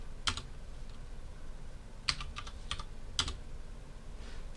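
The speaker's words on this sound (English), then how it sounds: "And we can just type in random numbers." Numbers typed on a computer keyboard during a programming lecture, heard as a few quick, close clusters of light key clicks separated by pauses over a faint steady room hum, with no speech.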